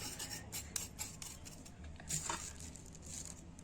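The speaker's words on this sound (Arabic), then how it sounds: "السكر بننخله ده طبعا" Powdered sugar being sifted through a metal sieve over butter for ammonia cookies, a quiet, close scratchy rasping with light tapping and clinks of the sieve, faint and steady without talk.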